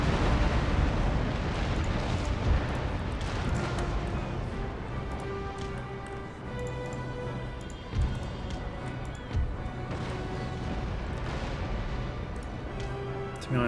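Ships' cannons firing in an Empire Total War naval battle, repeated heavy booming blasts at irregular intervals over a rumbling battle backdrop, with faint voices.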